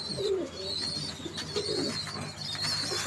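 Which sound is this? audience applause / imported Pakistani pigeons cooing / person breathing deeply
imported Pakistani pigeons cooing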